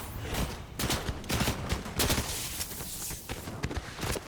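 Rapid gunfire in the video game Fortnite crackles in dense, overlapping bursts of sharp shots for several seconds, fairly close and loud.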